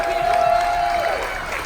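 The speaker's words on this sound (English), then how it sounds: "Big round of applause for our Army," Crowd applause and cheering at a military appreciation party aboard a Carnival cruise ship, a steady dense wash of clapping that holds throughout the short moment.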